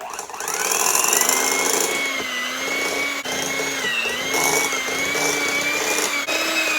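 An electric stand mixer on medium speed creams butter with white and light brown sugar, a steady whirring motor hum with a rhythmic beater rattle that wavers slightly in pitch, running continuously without talk.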